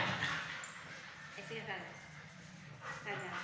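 A dog whimpers and gives short yips and barks outdoors, faint and intermittent under steady background noise and nearby human voices.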